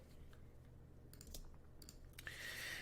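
Quiet typing on a computer keyboard, a few scattered soft key clicks and short clusters of taps against a faint background hum, with no talking.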